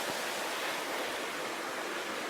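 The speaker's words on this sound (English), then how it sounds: "There's the creek. We can hear it and see it." Steady rushing water, a broad continuous hiss of a flowing creek, fairly close and unbroken, with no voices.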